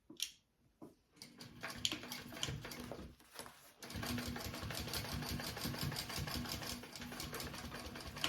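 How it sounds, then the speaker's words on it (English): A sewing machine top stitches along the bottom of a fabric sling's gusset beside the seam: a few soft handling clicks at first, then a steady, fast, close-up run of stitching that carries through to the end with no talking. "I'm going to top stitch. Along this bottom part of the gusset right by my seam."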